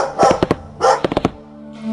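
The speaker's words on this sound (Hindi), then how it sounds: "कुत्ता घर के पीछे की ओर भौंकता हुआ दौड़ा।" A dog barks twice, close and loud, between quick thumping footfalls as it runs.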